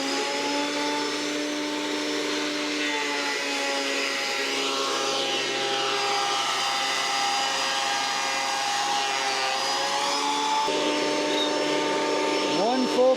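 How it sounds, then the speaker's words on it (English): A repaired old wood planer runs with a loud, steady motor whine and drone as a board is fed through, heard close and continuous, with a slight shift in tone near the end. "I got the planer all put back together, so I'll probably just like grab one of these boards right here, we'll run it through and test it out"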